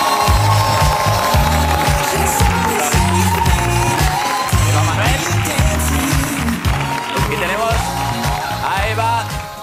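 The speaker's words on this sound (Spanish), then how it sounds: "Para ello, un fuerte aplauso a Eva Laín." Studio audience applause and cheering on the Spanish TV entertainment show El Hormiguero, mixed under loud, rhythmic, bass-heavy music that plays throughout.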